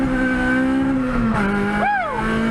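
An Acura RSX with an all-motor base build launches hard at 5,000 rpm, a loud sustained engine note holding steady, then a sharp rising-and-falling squeal near the end as it hooks up.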